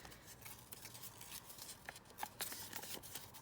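Paper torn by hand around a printed rose image, a quiet series of soft rips and rustles with a few brief crisp tears, close and faint with no voice.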